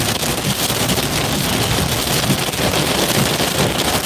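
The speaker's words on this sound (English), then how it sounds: "it's just heavy rain." Heavy rain during a tornado-warned storm in Virginia pounds steadily and loudly, a dense unbroken hiss with no pauses and no voices.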